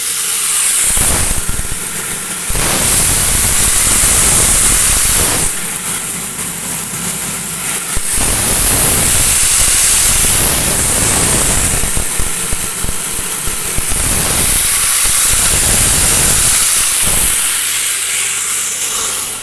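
Feed or grain poured out steadily on a poultry farm, giving a continuous loud hissing rush with short pauses between pours and no talk over it.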